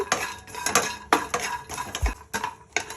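Garlic and dry coconut roast in a pan while being stirred, giving repeated scraping and clinking strokes of a utensil against metal at close range, with no talk.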